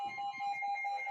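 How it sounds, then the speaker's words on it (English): An alarm beeps in a steady, rapid electronic pattern of repeated high tones, fairly faint and in the background, with a voice murmuring faintly underneath. "you hear the alarm?"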